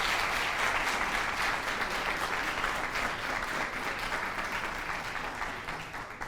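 Continuous, even applause from a concert audience at an a cappella show, a dense wash of many hands clapping at moderate loudness that tapers slightly toward the end.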